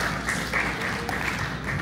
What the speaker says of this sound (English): Give God a clap of praise for that.